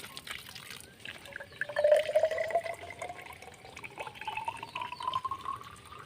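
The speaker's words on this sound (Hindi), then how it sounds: "तो मैंने लगभग इसके ऊपर तक यहाँ पानी भर दिया है।" Water pours steadily into a water testing jar, a soft trickle that rises in pitch as the jar fills, faint and close, with no talk over it.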